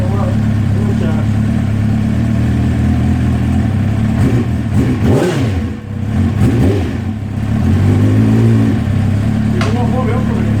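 Suzuki GSXR750 motorcycle engine warming up, holding a steady idle with a couple of rising revs, close and loud throughout with talk over it.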